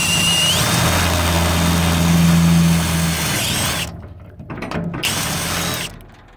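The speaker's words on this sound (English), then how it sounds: "you could just keep drilling until you get the right hole size" Power drill boring holes into a steel shipping container wall with a step bit, a loud steady whir for about four seconds, then stopping and briefly restarting in short bursts.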